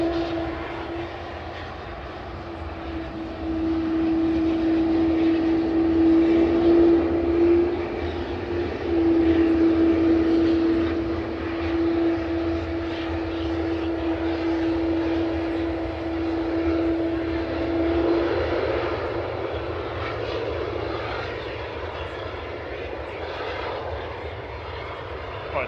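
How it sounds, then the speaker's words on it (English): A Ryanair airliner arriving from Berlin at Manchester Airport gives a loud, sustained jet engine roar with a steady whining tone that swells and then slowly fades over about twenty-five seconds, heard outdoors with no speech. "Next arrival is Ryanair from Berlin"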